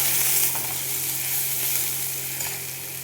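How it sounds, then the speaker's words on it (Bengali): Sliced onions frying in oil after cumin seeds, a dense, steady sizzle with a faint stirring tap. "পেঁয়াজটা আমি ভেজে নেব।"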